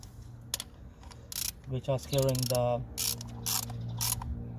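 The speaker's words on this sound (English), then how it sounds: "So I'm just gonna secure these bolts, which are securing the" Ratchet clicks while tightening coil pack bolts with a T40 bit on a Vauxhall Opel Astra engine, a few short clicking bursts close by, with someone talking over part of it.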